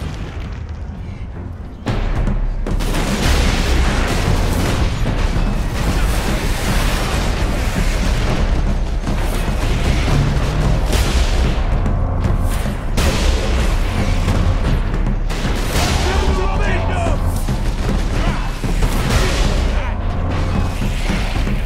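Ork rocket launcher blasts from high ground in Warhammer 40,000: Space Marine, a dense, loud wall of booming explosions and rumbling battle noise that starts abruptly after a quiet moment and barely lets up.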